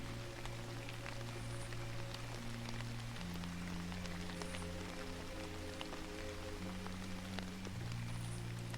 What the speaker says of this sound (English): I guess you don't mind listening to the rain